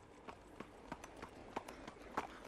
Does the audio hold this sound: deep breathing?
no